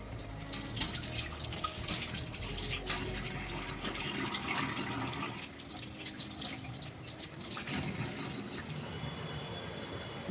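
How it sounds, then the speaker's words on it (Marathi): Tap water running steadily into a kitchen sink while eggplants from a home garden are washed by hand, a constant close splashing hiss with small shifts in flow and dripping. "आता ह्या वांग्याला आपण धुवून घेऊया चांगलं"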